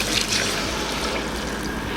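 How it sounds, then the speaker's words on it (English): Cold water pours steadily into a pot of jollof rice base, making a continuous, close splashing gush. "Right now I'll be adding on the water."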